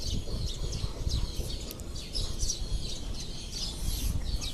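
Small chicken chicks cheep in quick, high-pitched bursts, several overlapping chirps close by against a low background rumble.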